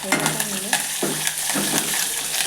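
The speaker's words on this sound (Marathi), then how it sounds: "मोहरी टाकली मोहरी चांगली त्याला मी तडतड तडतड होऊ द्यायचं" Mustard seeds crackle and pop in hot oil, a busy sizzle with sharp bursts, close by, alongside occasional stirring scrapes.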